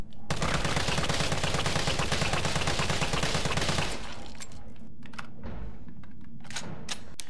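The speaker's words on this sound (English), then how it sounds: "Now let's check the assault rifle with both the scope and grip." Rapid automatic fire from an assault rifle fitted with scope and grip in Resident Evil 3 Remake, a dense burst lasting about four seconds, followed by a few scattered clicks and thuds.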